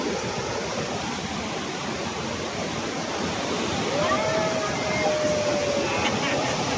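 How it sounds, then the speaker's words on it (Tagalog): A large waterfall on a river in Montalban, Rizal pours down heavily, giving a steady, loud roar of falling water throughout, with a faint whistling tone rising briefly partway through. "Ganda yung bagsak ng tubig oh, talagang malaki ano oh."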